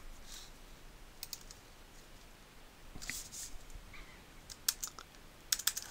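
A few sharp computer mouse clicks from saving a file, brief and spaced out over a steady background hiss, the last ones clustered close together.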